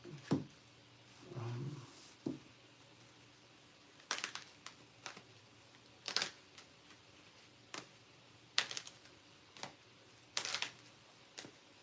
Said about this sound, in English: Let me shuffle up the cards just a little bit.